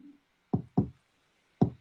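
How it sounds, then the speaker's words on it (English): Library kick drum sample for an electro-style beat: three dry, punchy low thumps, two in quick succession and a third after a short pause, with nothing else playing. "This is the kick from the library"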